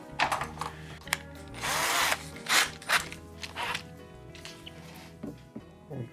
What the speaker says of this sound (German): bohren wir da mal ganz brutal Löcher in dieses Chassis rein